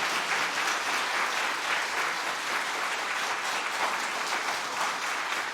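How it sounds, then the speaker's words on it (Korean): Dense, steady applause from a large church congregation, loud and sustained throughout with no pauses. "우리 뜨겁게 한번 우리 격려의 박수부터 먼저 해줍시다."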